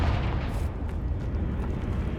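A Confringo explosive spell goes off in Hogwarts Legacy, a heavy rumbling blast with low booms and crackling debris that holds loud and dense for about two seconds.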